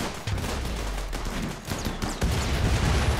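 Automated turrets in Rimworld firing on raiders on an ice sheet map: sustained rattling bursts of gunfire with heavier thumps and impacts, loud and continuous, shifting intensity near the end.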